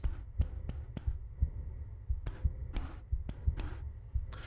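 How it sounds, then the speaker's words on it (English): A low-health warning heartbeat from a video game, thumping in a steady rhythm of soft low beats close up. Brief crisp ticks fall among the pulses, and a faint hum runs underneath. "the heartbeat to indicate low health"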